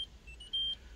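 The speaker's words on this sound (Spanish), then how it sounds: "si es un pitido así como ese" A faint, thin electronic car warning beep sounds a few times, then holds briefly over a low, steady hum.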